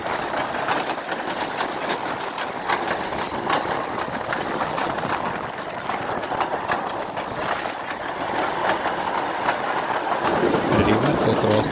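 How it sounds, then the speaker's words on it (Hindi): Train crossing the Ravi River bridge in Pakistan, a continuous loud rumble of wheels and carriages with rhythmic clatter and rattling, running steadily from start to finish. "शाहदराबाद के बाद ट्रेन ने दरियाए रावी को अबूर करना शुरू किया।"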